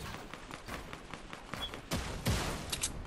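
Gunfire in the video game Fortnite, a rapid fusillade of sharp shots in quick bursts, growing louder and denser toward the end of the short stretch, with no talk over it.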